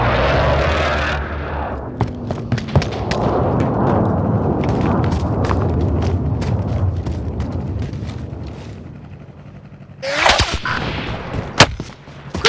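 Gunfire in the Call of Duty: Modern Warfare video game, a dense rumble of shots and booms that builds and fades, with sharp cracks near the end and brief talk.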